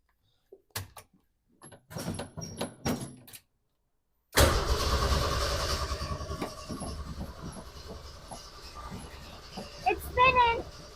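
A car engine being worked on at a home repair spot gives a few faint clicks and taps, then suddenly catches and runs with a loud, steady rumble that continues, with a person's voice briefly audible near the end.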